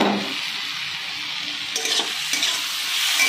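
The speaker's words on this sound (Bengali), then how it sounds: "মুগ ডালটাও দিয়ে একটু নাড়াচাড়া করে নিচ্ছি।" Mung dal frying in hot oil, stirred with a spoon: a loud, continuous close-up sizzle broken by a few scraping stirs against the pan, with no talking.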